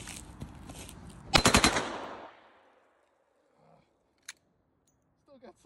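A full-auto Desert Eagle chambered in .357 Magnum fires a rapid burst of about ten rounds, loud and close, then fades into near silence broken by a few faint clicks.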